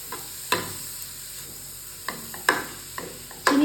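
A spoon stirs carrot halwa in a pan, scraping and knocking against the metal in irregular clinks and thuds over a faint, steady background hiss.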